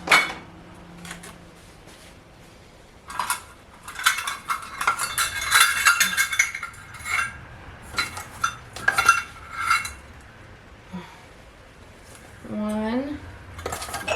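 Measuring cups scoop and pour sugar for blueberry syrup in a home kitchen, with repeated metallic clinks, scrapes and the rattle of utensils against dishes, moderately close, while a person talks intermittently.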